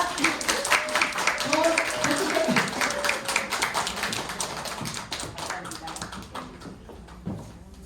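An audience applauds and cheers to welcome a lecturer onto the stage at a seminar, with dense, loud clapping filling the hall and voices mixed in before it thins out and tapers toward the end.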